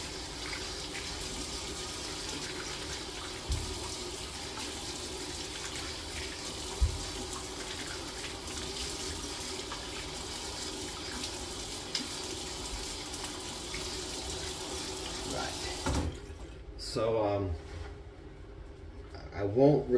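Tap water runs steadily for a cold rinse after a shave with a Kamisori shavette, a constant broadband rush that cuts off near the end, followed by a few brief splashes.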